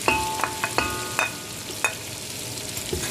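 Onions frying in oil and butter for Saudi kabsa sizzle continuously while a metal spoon scrapes and clinks against the pot several times, close up, no speech.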